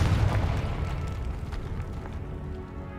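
A Confringo blasting spell exploding in Hogwarts Legacy, a loud booming burst at the start that rumbles and fades away over a few seconds.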